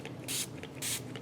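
Patina activator sprayed from a spray bottle onto wet paint, two short, close hissing bursts separated by a brief pause.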